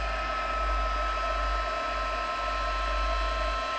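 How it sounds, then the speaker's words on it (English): A heat gun warming up for heat embossing a card gives a steady, loud blower whir with a low hum underneath. The sound runs evenly and unbroken, much like a hair dryer. "I'm just going to wait for the heat gun to warm up."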